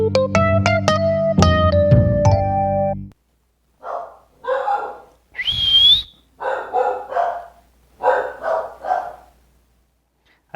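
Several dogs barking at people walking their dogs outside, coming in short clustered bursts after an opening stretch of tonal whistling music, moderately close with no talk.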